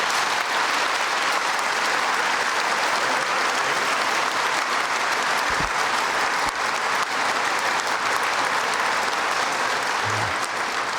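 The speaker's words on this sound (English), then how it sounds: "Ask for a hand of applause for our MC, David Pridham." Sustained audience applause at a Remembrance Day ceremony in the Canadian Warplane Heritage Museum, a dense, even roar of many hands clapping that holds for the whole stretch with no talk.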